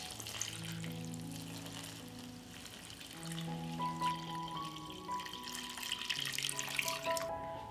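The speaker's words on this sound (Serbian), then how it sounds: "I dodajem vodu da prekrije meso." Water runs steadily into a cooking pot holding meat, beer and seasonings, a continuous close rushing pour that fills most of the stretch beneath quiet background music.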